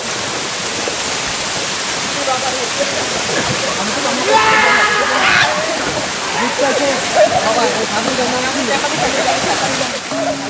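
Ham Ham waterfall pours in a steady, loud roar of rushing water, a constant broadband wash that holds through the whole stretch, with faint voices of people underneath.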